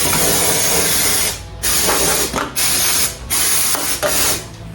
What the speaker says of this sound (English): So we've got a bit of brake cleaner and we just spray that around everywhere.